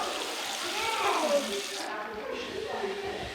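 A tap runs for handwashing in a kindergarten, water streaming and splashing steadily at close range, with a brief shift in the flow partway through.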